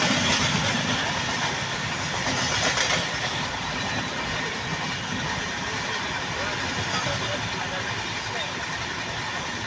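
Vivek Superfast Express, a long-distance Indian passenger train running from Dibrugarh to Kanyakumari, heard from on board at speed: a steady, loud rumble with continuous wheel clatter and rail noise that barely changes from start to finish.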